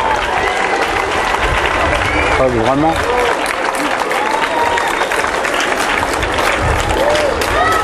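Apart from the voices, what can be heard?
crowd applauding after fireworks display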